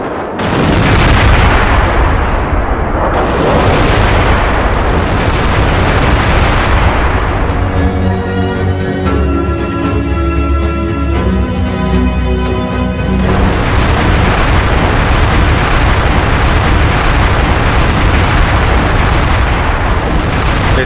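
Loud, continuous booming blasts and rumbling roar with crackling bursts, heavy low-end throughout, a sustained barrage of distant explosions from Israeli strikes on Tehran at night.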